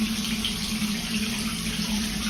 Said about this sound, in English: I'm going to gradually fill up your bath.